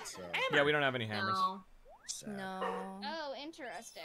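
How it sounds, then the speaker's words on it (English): A pet dog whimpers and gives short yips in a home during a Super Mario Party Jamboree game stream, partly buried under a person talking close to the microphone. "Hi, dog. All right. That's my dog."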